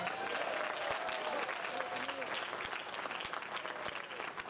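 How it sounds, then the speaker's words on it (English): A large audience applauds steadily throughout, a dense wash of clapping that tapers off slightly toward the end. "Give yourself a round of applause."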